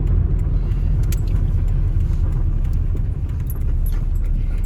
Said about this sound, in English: My car's so noisy.